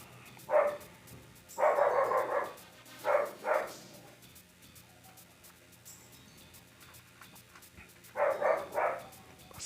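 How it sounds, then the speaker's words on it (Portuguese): A dog barks in short bursts at a distance: a single bark, a quick double, then a pair, a pause and a final cluster of barks, fairly faint over quiet background. "inseto voando lá na rua, ele começa a latir já"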